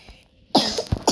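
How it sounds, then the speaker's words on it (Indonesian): A single person coughs sharply up close, a short burst with a couple of quick follow-up hacks. "Batuk."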